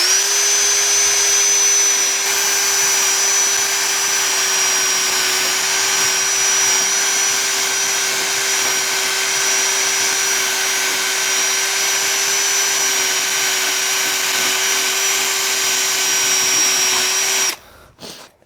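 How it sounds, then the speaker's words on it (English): A power drill spins a cheap eraser wheel in a steady, unbroken whine with a constant pitch, loud and close for about seventeen seconds before cutting off abruptly. "We'll try it on the drill first"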